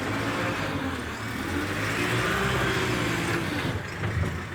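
JCB 507-42 diesel forklift, 7,000 lb class, running steadily close by as it brakes and backs up, the engine note swelling slightly mid-way with a continuous low mechanical drone and no talking.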